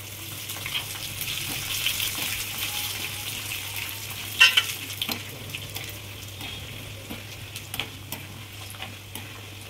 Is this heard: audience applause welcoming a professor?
no